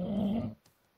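A creature growls in the Minecraft Divine RPG mod, a low rumbling snarl lasting about half a second and then cutting off, leaving near silence with a faint short sound afterward.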